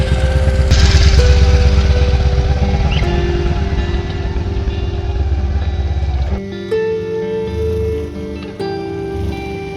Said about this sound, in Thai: ก็เป็นรถที่คอยนำส่งนักท่องเที่ยวขึ้นลงครับก็เป็นรถไถครับ